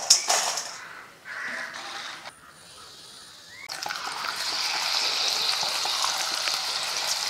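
Plantain chip slices drop into hot oil tinted with turmeric powder, and after a few seconds a steady, bright frying hiss swells and holds, fairly close and loud on its own.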